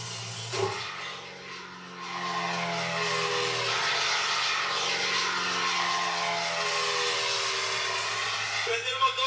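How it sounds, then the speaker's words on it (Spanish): Light aircraft engine restarting in flight in a Colombian film, a low droning hum that surges after a brief lull and settles into a steady, moderately loud propeller whine. "A ver si vuelve a arrancar el motor."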